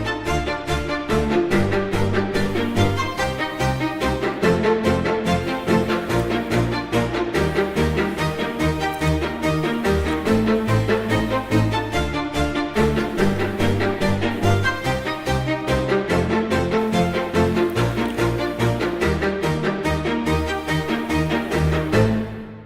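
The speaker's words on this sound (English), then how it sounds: "This is just the descending fifths progression in Locrian." A multi-instrument ensemble plays a descending fifths chord progression in the Locrian mode in 7/8 time, loud and dense, sounding continuously and alone for the whole stretch.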